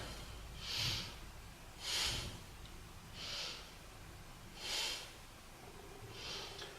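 Steady breathing during a beginner yoga pose for ankle flexibility, five soft, airy breaths spaced at an even, slow rhythm, close to the microphone with no talking.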